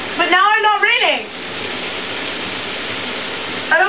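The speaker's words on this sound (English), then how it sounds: "You're making the water all come out and coming everywhere." Water sprays out in a loud, steady broadband rush after a short burst of excited talk, continuing as a dense hiss, with a voice returning at the very end.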